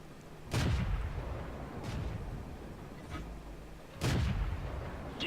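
Tank cannon shots in a World of Tanks style battle game with a Type-64 light tank, three heavy booming blasts spaced over a few seconds above a constant low rumble of engine and battlefield noise.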